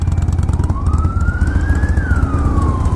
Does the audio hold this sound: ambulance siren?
yes